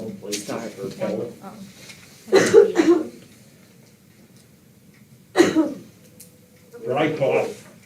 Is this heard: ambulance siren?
no